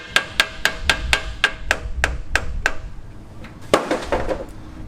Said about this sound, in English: just kind of tap it out with special tool number 1, a BFH, big fucking hammer